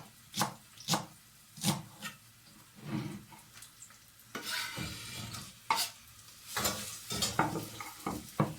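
Leeks sautéing in a pan as the base for an Italian bread-and-tomato soup, heard as a series of sharp stirring and scraping strokes over a soft sizzle, close and moderately loud, with no talking.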